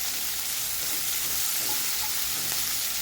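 Onion softening in a covered pan for a Marathi paneer bhaji gives off a steady, close, gentle sizzle that stays even throughout with no voices.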